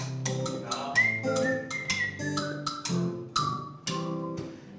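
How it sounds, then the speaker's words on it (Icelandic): A person whistles a melody at a group singalong, with bright tonal notes over a series of struck, plucked-sounding musical notes in a sustained, rhythmic passage. "Er ég að flauta?"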